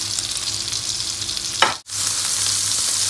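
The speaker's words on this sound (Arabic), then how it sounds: "كنجهد ليها البوطا ونخليها تتحمر خاطرة" Potatoes frying in a pan make a loud, steady close sizzle, broken by a brief stir and a short dip before the frying noise resumes.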